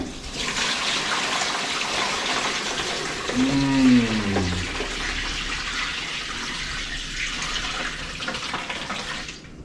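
Brine liquid with dissolved seasonings for a turkey is poured from a pan into a container, a loud rushing splash that swells and then settles into a steady trickle.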